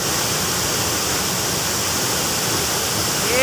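A twin waterfall about 8 meters high in Bangun Rejo, South Solok, pours as a steady, loud, broadband roar of rushing water. It is heard up close and continuous, with no speech.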